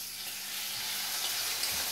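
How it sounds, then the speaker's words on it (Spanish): Lamb liver dropped into very hot olive oil in a frying pan sizzles in a steady, close hiss that builds slightly, with a few soft bubbling pops. "ponemos un poco de aceite de oliva, sartén muy fuerte, y echamos el hígado."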